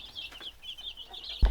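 Backyard chickens raised for meat cluck and chirp softly nearby in a quick, uneven series, ending with a sudden louder thump.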